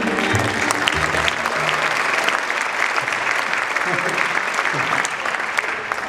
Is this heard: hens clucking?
no